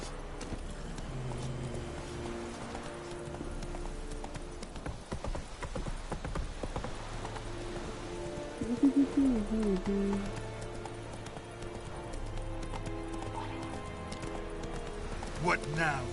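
Horse hooves clip-clop at a steady walking rhythm in The Witcher 3 on Death March difficulty, with a brief whinny and voices talking over it throughout.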